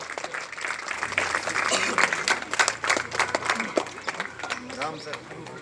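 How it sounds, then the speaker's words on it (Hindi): An audience claps at an academy's first annual function as students are called up for awards, a steady patter of hand claps running under an announcer's voice. "जोरदार तालियां, जोरदार तालियां"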